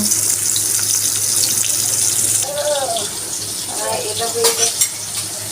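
Hilsa fish frying in hot oil, a steady dense sizzle throughout with stirring and clattering bursts in the second half, close and fairly loud.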